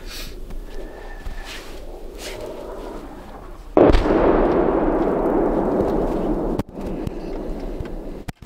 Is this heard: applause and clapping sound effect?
no